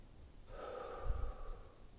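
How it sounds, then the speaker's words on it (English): A single slow deep breath, a soft drawn-in inhale followed by a gentle low exhale, close and quiet with no talking. "Take a deep breath."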